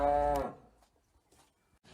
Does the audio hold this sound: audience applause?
no